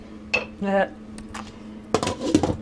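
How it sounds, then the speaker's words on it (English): A metal lid is set onto a pot of tomato soup on low simmer, giving a couple of short clanks and rattles close by, with a person speaking around them. "Put a lid on it."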